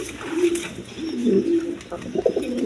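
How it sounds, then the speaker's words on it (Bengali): Pigeons of the coloured Raj Golla breed cooing in low, rolling phrases, close and continuous throughout, with no talk over them. "একদম সুস্থ সবল কবুতর দেখেন"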